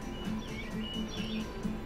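Bird calls from the video game Woodcutter Simulator, a few repeated chirps and short whistled phrases over a steady low ambient background, fairly close and clear.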